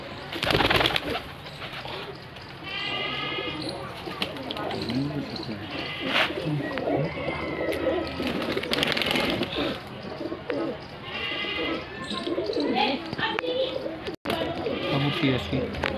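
Pigeons for sale coo and murmur in soft repeated calls close by, mixed with a bleat-like sound and people talking over them throughout.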